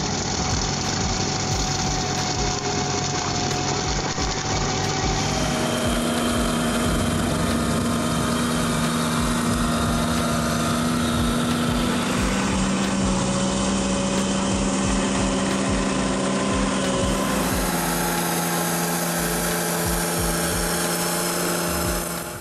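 A Demonio 23 000 forest mower runs continuously at high revs in woodland, a loud, steady engine drone that shifts pitch several times as the load changes.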